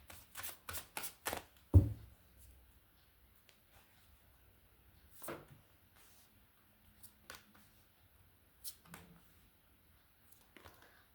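A tarot deck is shuffled in a quick run of riffles, then a sharp tap and a few scattered soft card slides and shuffles in a quiet room. No one speaks.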